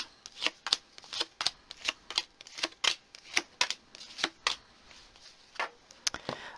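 Tarot cards being shuffled and laid down close up: a quick, irregular series of soft papery slaps and flicks, fairly quiet, with no speech.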